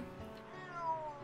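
A cat meows in the indie horror video game Simulacrum, a short drawn-out call rising near the end over a quiet ambient music bed.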